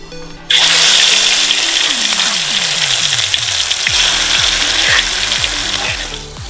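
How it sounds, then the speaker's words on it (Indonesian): Ground spice paste hits hot oil in an Indonesian village kitchen in Gunungkidul and bursts into a loud, sudden sizzle that keeps crackling steadily, with some faint tonal sounds in the background. "Pastikan minyak sudah panas, lalu tumis bumbu yang sudah dihaluskan."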